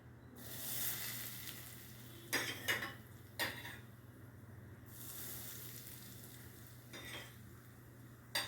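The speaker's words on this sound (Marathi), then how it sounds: "एक कप तेल घाला गरम केलेलं" Hot oil poured into a flour and semolina mixture for sweet karanji, giving a broad hiss, then scraping stirs and clinks of a spoon against a bowl, close and moderate, no talking.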